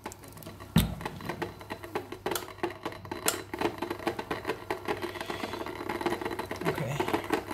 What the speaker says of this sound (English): The boiling can be a bit crazy during this step.